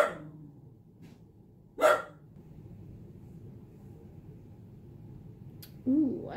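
A dog barks twice, sharp and fairly close, with a long stretch of quiet room noise between the barks.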